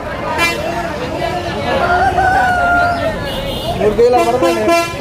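Rooster crowing at a rural country chicken market, a sustained harmonic call rising over steady crowd babble and nearby talk, with a brief horn-like toot near the start.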